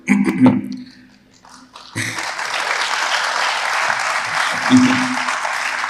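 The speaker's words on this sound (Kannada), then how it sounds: "ಕೊನೆ ಸಾಲಿಗೆ ಜಾಸ್ತಿ ಚಪ್ಪಾಳೆ ಹೊಡೆದಿದ್ದೀರಾ ಅಂತ ಗೊತ್ತು ನನಗೆ" A crowd at a college talk in Kalaburagi bursts into loud, sustained applause after a brief voice and a short lull. The clapping fills the rest of the stretch.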